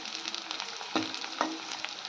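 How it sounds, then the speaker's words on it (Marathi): Onion and coarsely grated coconut sautéing in a pan, a dense continuous sizzle broken by a couple of sharp stirring scrapes, close and fairly loud with no voices. "कांदा चांगला परतून घ्यायचा।"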